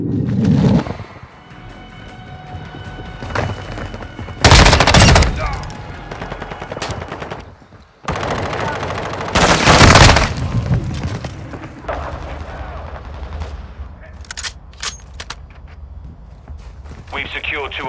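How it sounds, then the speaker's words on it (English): Rapid automatic gunfire and booming shots from a Call of Duty: Modern Warfare battle, loud and dense, with bursts and heavy blasts over constant combat noise while radio-style voices call out in the background. "Taking effective fire!"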